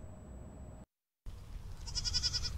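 Goats grazing on invasive weeds at Malmstrom Air Force Base in Montana give a single wavering bleat near the end, over low steady outdoor noise.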